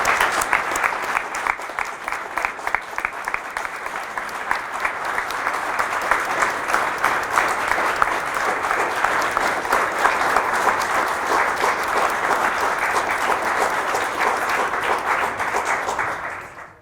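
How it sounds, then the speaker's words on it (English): Sustained, dense applause from an audience at a Veterans Day 2019 ceremony at Marshalltown Community College, honoring veterans and active duty members. It holds steady and full for about sixteen seconds before cutting off. "Let's give a big round of applause."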